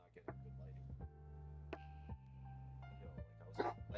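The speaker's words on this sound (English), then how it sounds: "He's barking at a shadow." A dog barks at its own shadow indoors, a handful of short sharp barks and yips spread unevenly over a few seconds, close by and moderately loud, with a steady low hum underneath.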